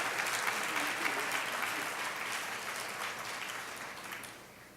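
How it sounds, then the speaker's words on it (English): A conference audience at a health and science awards event breaks into sustained, dense applause that fades slightly toward the end, heard at a moderate distance with no talk over it. "You really do deserve to give yourself a round of applause."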